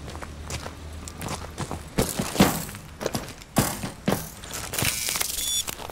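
Mag-grip wall climbing in Call of Duty Advanced Warfare, heard as a rhythmic series of metallic clanks and thuds from the gloves gripping the wall, with sharper crunchy hits spaced irregularly across the clip.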